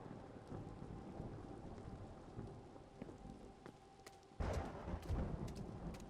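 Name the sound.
thunderstorm with rain in a video game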